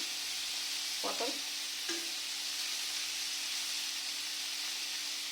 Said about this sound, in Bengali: এদিকে পটল ভাজছি